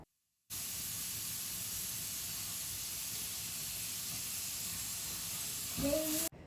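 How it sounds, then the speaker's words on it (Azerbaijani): Onion frying in butter in a pan, giving a steady, even hiss of sizzling that holds constant for several seconds before cutting off abruptly. "İlk önce tavaya tereyağını alıp soğanı qovururam."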